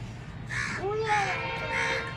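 Crows caw several times, fairly close, as birds gather to be fed fried snacks at a house in Bangaon, with quiet background ambience.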